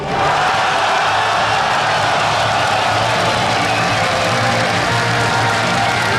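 A large esports arena crowd at a European League of Legends match cheers and roars for the home favorite team, a loud, dense, sustained wall of voices and applause with no pauses.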